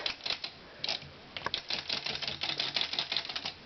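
Smith Premier Model 1 typewriter mechanism jamming: a quick run of dry, irregular mechanical clacks and taps, close and fairly loud, with no voices.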